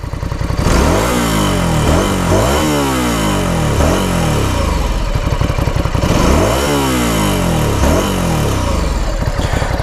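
A 2016 Ducati Scrambler Sixty2 motorcycle engine revs up and drops back in repeated bursts, loud and close, with a steady throbbing idle between the throttle blips and no voices.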